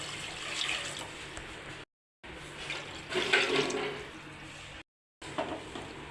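Water pours from a glass into a pot holding two glasses of basmati rice, in a few bursts of splashing and trickling broken by short silent gaps.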